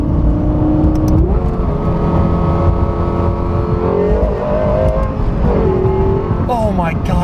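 Close, loud engine note of a Lexus LFA supercar, steady at first, then surging through several rising revs with quick shifts near the end, a voice speaking over it at times.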